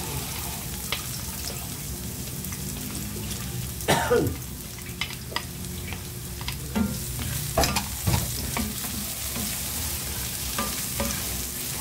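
Garlic sautéing in a pan after onions, a steady sizzle with occasional stirring scrapes and clinks, no talking.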